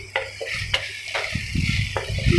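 Spice paste fries in a pan for the fish curry, a close sizzle broken by several sharp spatula scrapes and knocks against the metal.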